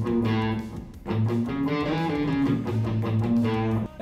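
Distorted electric guitar plays a punk riff in an Arabic-sounding scale. Loud, driving repeated phrases with sliding bends fill the stretch, with no voices.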